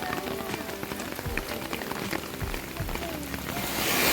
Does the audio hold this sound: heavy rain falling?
yes